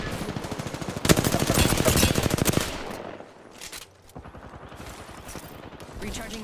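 Automatic gunfire in the battle royale video game Apex Legends, dense rapid bursts of shots in two main stretches separated by a brief lull, loud and close, with a voice talking over parts of it.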